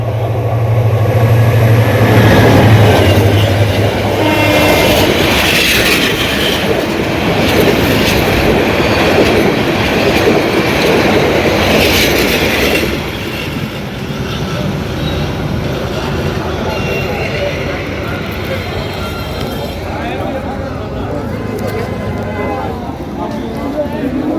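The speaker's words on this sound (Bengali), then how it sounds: "এ দেখেন একটা ট্রেন যাচ্ছে" A train runs past a busy railway-gate market in Narsingdi, Bangladesh, loud and close, its wheels clattering steadily for about thirteen seconds before the rumble fades off into the distance.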